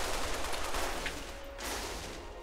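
Gunfire in the Halo: The Master Chief Collection video game, a dense, continuous stream of rapid shots filling the whole moment at steady loudness, with no speech.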